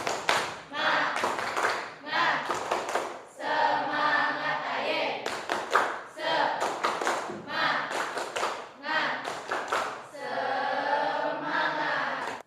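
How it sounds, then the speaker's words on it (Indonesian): A school class performs the rhythmic 'tepuk semangat' clap routine, bursts of hand claps alternating with loud chanted group voices, repeating in a steady pattern throughout. "Coba tepuk semangat."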